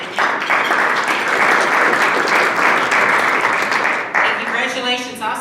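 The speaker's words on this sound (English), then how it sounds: "Let's give an applause to Kenya." Steady, loud applause from a Rotary meeting audience honoring Kenya Wade, sustained dense clapping that dips slightly before trailing off with a voice coming through at the end.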